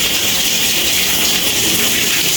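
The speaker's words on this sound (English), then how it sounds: "Here, guys, I am spraying the water on the glass." Water sprays steadily onto glass in a continuous loud hiss for a couple of seconds, with no speech.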